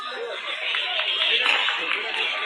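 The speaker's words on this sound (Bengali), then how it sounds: "জোরে হাততালি হোক।" A crowd at a local ceremony claps together in a dense, continuous patter of hands, close and steady, with chatter and a few chuckles mixed in before it cuts off abruptly.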